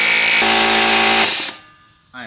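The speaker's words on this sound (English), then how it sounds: "It's called the air hammer. It goes." A loud, harsh pneumatic air hammer rattles steadily for about a second while working on a BMW E82's suspension, then cuts off, followed by a short voice.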